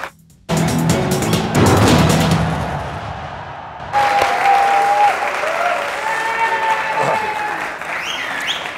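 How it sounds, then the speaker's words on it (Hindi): Studio audience applause on a cricket talk show, a loud close burst of clapping that fades, then swells again beneath a bright musical sting and broadcast sound. "तालियां बजाइए"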